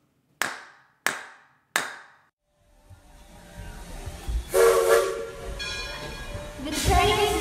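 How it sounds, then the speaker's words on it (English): A train leaves a station as a sound effect: three sharp clap-like strikes, then rising steam hiss and chuffing that builds into loud blasts with whistle-like tones. "The train is now leaving the interpretation station."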